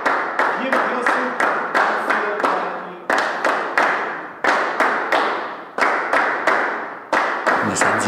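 A band claps hands together backstage just before a performance, a run of sharp, close handclaps and slaps in irregular bursts with brief pauses, some voices murmuring underneath.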